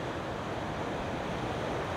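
A river near Buena Vista, Colorado, rushing past its banks by a whitewater park, a steady broadband roar of moving water, constant and fairly quiet, with some wind in the mix and no voices.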